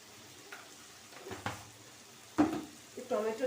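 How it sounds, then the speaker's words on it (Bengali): Tomato frying in a pan with salt, a soft sizzle broken by a few stirring scrapes and a louder clatter near the end, faint and close, with a voice speaking briefly at the end. "টমেটোটা একটু ভাজা ভাজা হবে, এবং যাতে টমেটোটা একটু তাড়াতাড়ি গলে যায় তার জন্য আমি একটু নুন দিয়ে দিলাম।"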